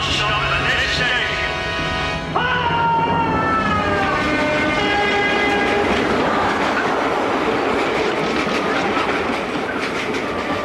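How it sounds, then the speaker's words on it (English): An intercity train roars through a station without stopping, loud and continuous, with rhythmic clattering wheels and a drawn-out horn-like tone. "This intercity train does not stop at this station."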